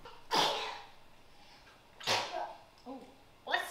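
A person sneezes close by, followed by a second sneeze and a smaller catch of breath, with another sneeze-like burst at the end in a quiet home setting.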